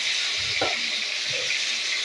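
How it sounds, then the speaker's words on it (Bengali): Fish frying in a pan of hot oil, a constant close hissing sizzle with a couple of soft low spatters and pops underneath. "দেখতেই পাচ্ছেন, কতটা দূরের থেকে আমি মাছ ভাজছি। এখন ফাটছে"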